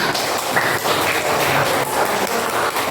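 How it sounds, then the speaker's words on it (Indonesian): Students in an elementary classroom applaud a classmate, a steady, close patter of many small hands clapping that continues evenly throughout. "Bagus, tepuk tangan semuanya."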